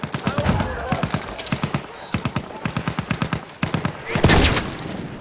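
Battlefield 1 gunfire: rapid bursts of close rifle and machine-gun shots in rhythmic volleys, with a louder blast near the end and game voices calling out.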